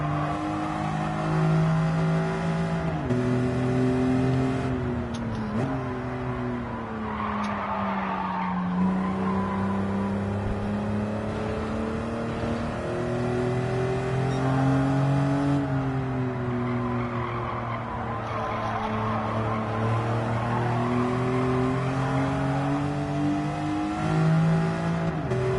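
Gran Turismo 7 front-engine race car revving continuously, its engine pitch rising and falling through laggy gear shifts with tire squeal and skidding, loud and steady throughout with no talk.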